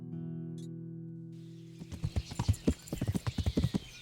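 A horse gallops in Kingdom Come: Deliverance, heavy hoofbeats starting suddenly after a held musical tone and pounding in a quick, uneven rhythm.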